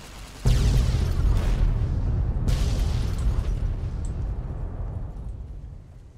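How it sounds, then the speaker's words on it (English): An explosion triggered by a detonator in Fallout: New Vegas Lonesome Road, a sudden loud boom followed by a second blast and a long rumbling tail that slowly fades. "I'm finna make that explode with a detonator."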